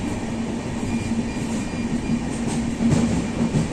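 A passenger train travelling in India heard from inside the carriage, with a steady low rumble, a constant hiss and faint rhythmic wheel clatter, and no talking.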